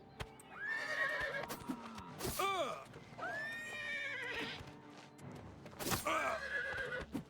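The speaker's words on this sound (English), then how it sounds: "He finally killed that horse." A horse in Oblivion Remastered neighs and whinnies repeatedly in loud, shrill bursts amid hoof clops and combat noise, with someone talking in between.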